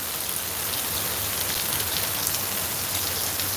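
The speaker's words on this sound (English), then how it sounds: "we're sitting by the corner here getting rained on" Steady rain falling outdoors near the corner of a building, a dense, even hiss of drops hitting surfaces, close and continuous with no voices.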